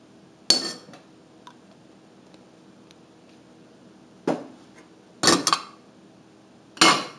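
Pecans, flour and rum being stirred in a pot off the heat, heard as a few separate metallic clanks and scrapes of a utensil against the pot with quiet gaps between.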